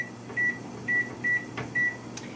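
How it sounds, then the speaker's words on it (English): Four short electronic beeps from a microwave-style kitchen timer being set while pumpkin sloppy joes simmer, spaced evenly and fairly close, followed by a faint clatter. "Go ahead and set the timer."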